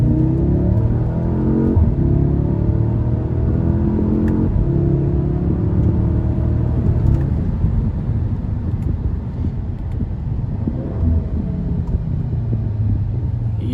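A 2020s Audi S3 8Y quattro hatchback with 213 kW accelerates hard, its engine note rising and falling through revs across roughly fourteen seconds, close to the microphone with wind buffeting.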